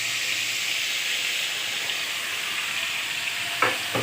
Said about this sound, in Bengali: এবার লতিটাকে এ দেখো, লতিটাকে দিয়ে দিচ্ছি।